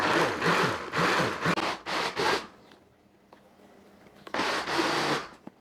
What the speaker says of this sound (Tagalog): pulse-pulse lang muna tayo para hindi mag-overheat yung ating blender